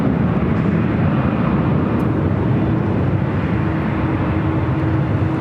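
United heavy jets take off from the north side of LAX, producing a dense, steady engine roar at constant loudness with no speech.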